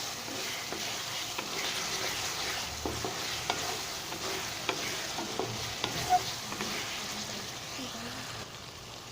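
Zucchini sizzles steadily in hot oil and spice tempering as it is stirred in a pan, with a constant frying hiss and soft scraping.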